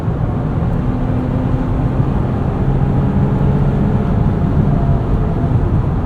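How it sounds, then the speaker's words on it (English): Loud, steady road and wind roar fills the cabin of a 2023 Nissan Pathfinder Rock Creek Edition fitted with a roof rack and all-terrain tires, a constant low rumble and hiss with no letup. "Between the roof rack and the all-terrain tires, it's a little loud in here."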